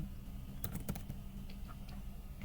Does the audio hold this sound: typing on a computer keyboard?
yes